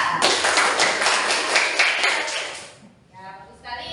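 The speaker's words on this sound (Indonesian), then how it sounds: "tepuk tangan dulu buat Ira" A classroom claps for a student named Ira after she reads aloud; a short burst of brisk group clapping close by for over two seconds, then a voice begins talking as it fades.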